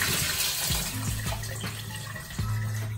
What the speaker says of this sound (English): So I throw this water off.